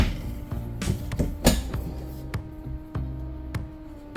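Close, fairly loud clunks, creaks and ticking clicks as a kitchen drawer in a fifth wheel trailer is worked, with several sharp knocks at uneven intervals over a steady low hum.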